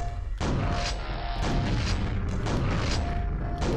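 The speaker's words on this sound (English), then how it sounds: "This is the pipe bomb launcher." Pipe bomb launcher blasts in the video game Quake, a few loud booming explosions in quick succession with heavy low-end rumble and crackling debris, no talking.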